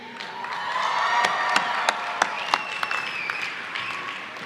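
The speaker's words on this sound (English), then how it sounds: "Candidates for Masters of Science degrees in the College of Design, please rise and cheer." Master's degree graduates in a large commencement hall cheer and applaud together, a dense sustained wash of clapping with sharp individual claps and shouts standing out, no speech over it.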